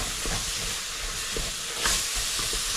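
Beef biryani masala sizzles in a pan with lemon juice squeezed in, giving a constant, close, hissing fry. Faint stirring strokes sound beneath it, and no one speaks.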